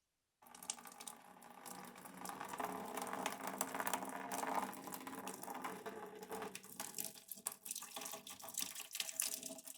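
Cold water gushes from a tap into a pot of hot homebrew wort, a steady splashing rush that starts abruptly and continues with no one speaking.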